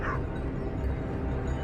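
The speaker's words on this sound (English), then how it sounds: "The sound of barking echoed from deep within the forest." Dogs bark deep in a forest during a wild boar hunt near a wheat harvest, a faint, distant yelp heard under a steady low rumble of machinery.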